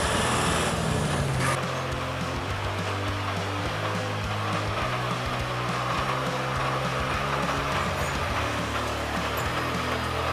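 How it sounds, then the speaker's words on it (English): Heavily loaded timber truck carrying massive logs through deep mud on a forest road, its engine roaring steadily and loudly throughout with a continuous low drone. "the roaring engines shatter the silence of the forest"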